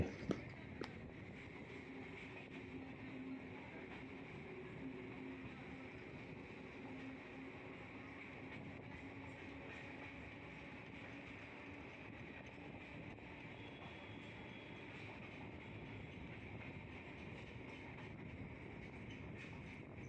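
A Kolkata Circular Railway train runs along an elevated line near Khidirpur, giving a steady, continuous rumble of wheels and carriages with faint rhythmic clatter throughout, heard close and unbroken with no talk.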